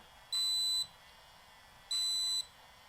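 An at-home laser device gives two short, high electronic beeps, each about half a second long, separated by a brief quiet pause.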